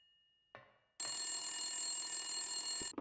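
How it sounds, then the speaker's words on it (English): A telephone bell rings loudly and continuously for about two seconds after a brief faint knock-like sound, with no voices present. "the phone is ringing now"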